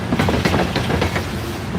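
A loaded Norfolk Southern coal train rolls through a rail yard, loud and close, with rhythmic clickety-clack of wheels over rail joints and a steady rumbling underneath.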